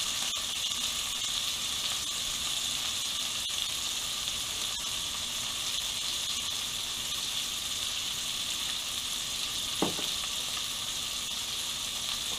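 Steak filets sizzle steadily in a pan, a constant hissing frying crackle at close range with faint ticks and one brief clatter, no voices.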